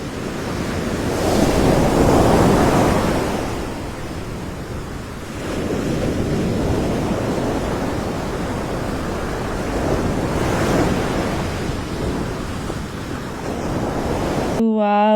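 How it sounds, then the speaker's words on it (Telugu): Ocean waves rolling onto a Florida beach at sunset, a continuous loud wash of surf with swelling and receding breakers and gusty wind noise on the microphone. "ఆ వేవ్ సౌండ్, ఇంకా ఆ బర్డ్స్ నాయిస్ నెక్స్ట్ లెవెల్ ఉంది కదండి మొత్తం"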